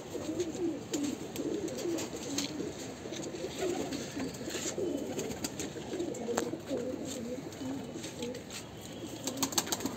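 Pigeons coo softly and repeatedly inside a loft, with a steady low murmur of several birds and occasional rustling or flapping throughout.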